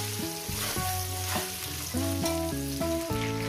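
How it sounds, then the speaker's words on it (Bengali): Catla fish head curry, salted, fries in a pan, giving a loud, continuous sizzle with rhythmic stirring scrapes at roughly half-second intervals and no talk. "এটা একটু ভেজে নেবো"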